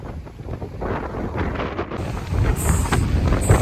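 Strong wind in Key West buffets the microphone in a continuous low roar, growing louder and gustier toward the end.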